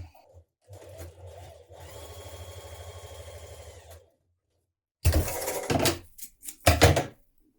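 A sewing machine stitches a short-edge sleeve band seam with a 1.5 cm allowance on blouse fabric. The motor runs steadily for about two seconds after brief start-stop bursts, then cuts out. Louder handling clatter and knocks follow.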